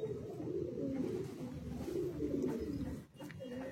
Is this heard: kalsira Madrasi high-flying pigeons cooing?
yes